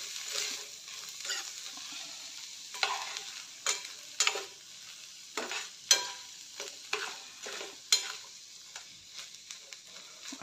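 Cooked corn and other ingredients sauté in a pan with a soft, steady sizzle, broken by repeated sharp scrapes and taps as a spatula stirs them. The stirring comes in irregular strokes and the whole scene is fairly quiet.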